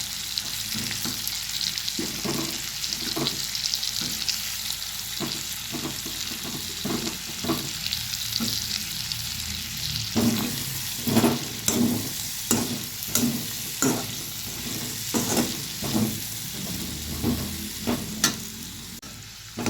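Potatoes, broad beans and tomato fry in a pan with a steady sizzle, while repeated scrapes and knocks of a spatula stir them in an uneven rhythm, close and fairly loud, with no talking.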